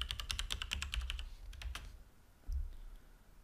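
Quick, light keystrokes on a computer keyboard while searching for the firewall setting: a brisk run of clicks, then a few scattered taps and a soft thump, all quiet and close.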